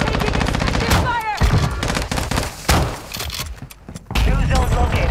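Sustained automatic gunfire in Call of Duty: Warzone 2.0 hammers close and loud in rapid rhythmic bursts, broken by short pauses and thuds, with in-game voice chatter mixed underneath.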